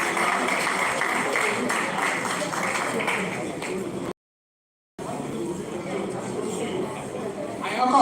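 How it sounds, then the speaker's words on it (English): A round of applause fills a Nigerian Institute of Town Planners Oyo State chapter gathering, a steady dense clatter mixed with talking voices, cut off briefly by a second of silence before resuming. "A round of applause."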